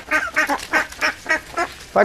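A duck quacks in a quick, steady series of harsh, nasal calls, close and loud, with no talking.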